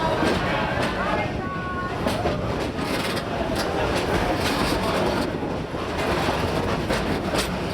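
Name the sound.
train ride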